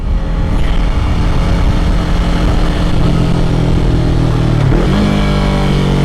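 A 2020 Yamaha YZF-R3 motorcycle engine idles steadily and loudly up close, a constant droning hum with a brief dip and shift in pitch near the end, no voices present.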